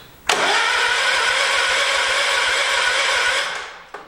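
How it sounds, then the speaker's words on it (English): A lawn tractor mower engine with no gas cranks over without catching: a loud, steady starter whir runs for about three seconds, then stops abruptly, followed by a faint click. "Cranks over alright. There's no gas in it right now, so it shouldn't start."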